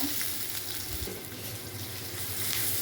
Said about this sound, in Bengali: এখানে পেঁয়াজ দিয়ে নিয়েছি একটু লবণ দেবো একটু নেড়ে নেব